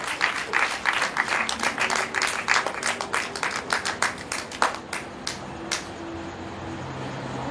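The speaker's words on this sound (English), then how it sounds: "Another round of applause, please, for Millicent Graham." Audience applause after a book reading, many hands clapping densely for about five seconds, then thinning out and fading into room noise.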